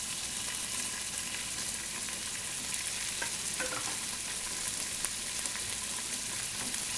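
Garlic and anchovies fry in a pan for puttanesca pasta, a continuous close hiss and crackle of sizzling oil with faint stirring, steady throughout.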